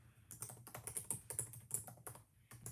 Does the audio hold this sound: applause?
no